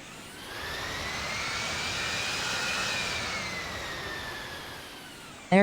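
Jet engines whine as an Aeromexico Boeing 777-200 taxis in the Infinite Flight game, a steady high-pitched hum that swells slightly, then ends abruptly with a brief burst of sound.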